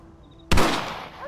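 A single sharp rifle shot in Red Dead Redemption cracks suddenly after a quiet moment, loud and close, followed by a short echoing tail.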